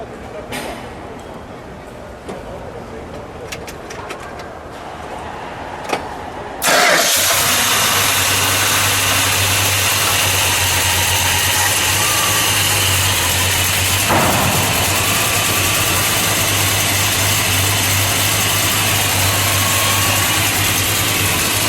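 A 1971 Plymouth Road Runner with a 340 engine and four-speed cranks and catches about seven seconds in, after quiet shuffling and voices, then settles into a loud, steady, rumbling idle close by.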